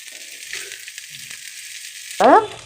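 Ivy gourd pieces frying in a pan make a steady, bright sizzle. A brief louder burst of sizzling and a spoken voice come near the end.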